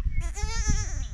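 A young goat gives a single wavering bleat lasting about a second, close and fairly loud, over low rumbling outdoor background noise.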